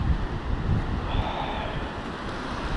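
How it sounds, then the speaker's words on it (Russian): Steady wind and the broad wash of rough sea surf on a Red Sea beach at Sharm El Sheikh, Egypt, a continuous close roar of wind noise and breaking waves with no voices. "вот в этом районе бушует море"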